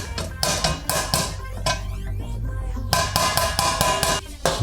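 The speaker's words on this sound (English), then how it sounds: "You can help yourself with a hammer first." A hammer strikes a metal pizza oven skimmer in bursts of quick taps, a pause in the middle, then another run of rapid, ringing blows close by.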